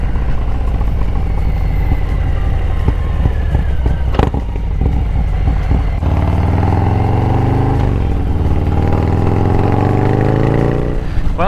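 Harley Lowrider S with an S&S 475 cam and aftermarket exhaust, ridden hard: a loud, close, throaty V-twin rumble with a sharp gear change, then a rising pull as it accelerates.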